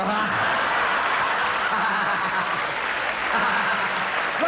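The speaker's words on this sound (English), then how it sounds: "The women are clapping." Dense applause from a studio audience at a comedy variety show, steady and full throughout with faint laughter and a low voice mixed underneath.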